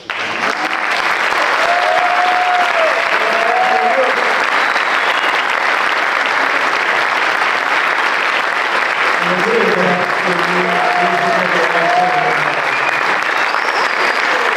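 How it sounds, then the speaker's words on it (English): Sustained, dense applause from a concert audience at an Azerbaijan–U.S. friendship concert, a loud even wash of clapping lasting throughout with faint tonal sounds and murmurs mixed in. "Please, big applause for all of this."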